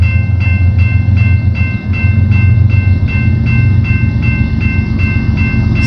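On the Galt Sub in London, Ontario, a CP freight train led by a single BNSF locomotive rolls by close and loud, with a heavy low rumble and a regular clickety-clack of wheels over rail joints.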